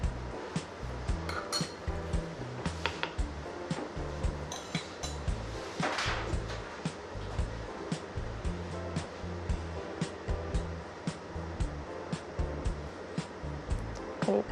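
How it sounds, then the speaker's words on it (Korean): Coffee grounds and water are stirred in a pour-over brewer during the bloom, giving a rapid run of soft clinks and swishing taps, close and fairly quiet, repeating steadily with no talking. "물을 주입해 준 후에 원두 가루와 물이 충분히 잘 만날 수 있도록 교반해 줍니다."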